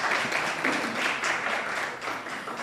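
Audience at a conference on reducing family poverty gives a short round of applause, a steady burst of many hands clapping at moderate volume.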